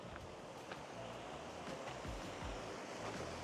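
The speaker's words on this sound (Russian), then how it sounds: "смотрите, вода протекает, получается, через вот это помещение" Spring water runs through a room in a remote Tajik mountain village with a continuous rushing wash and scattered small splashes and knocks; no talking is heard.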